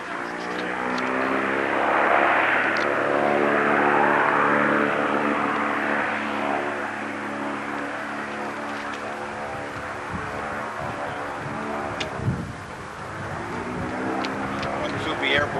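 A radio-control model airplane engine drones steadily with a buzzing, harmonic whine that shifts in pitch as the plane flies past. Outdoor talk continues over the engine throughout.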